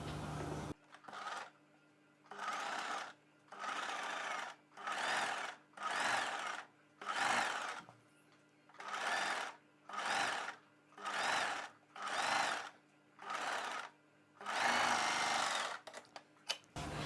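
Sewing machine stitching the neck part of a prince-cut kurti: about a dozen short, rapid whirring runs in a regular stop-start rhythm, each lasting roughly a second, up close with no talk.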